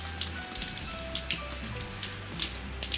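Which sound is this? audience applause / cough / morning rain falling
morning rain falling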